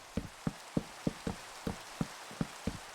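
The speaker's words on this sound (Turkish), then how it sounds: "Evet yağmurun yağması iyi bir şey ama çok ses yapması kötü gerçekten." Steady rain falls in Minecraft with a faint hiss, punctuated by regular low thuds about every third of a second, like heavy drops striking a surface.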